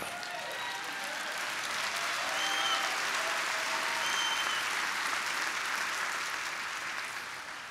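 A crowd claps its hands in sustained, dense applause that swells and gently fades, with a few faint voices mixed in.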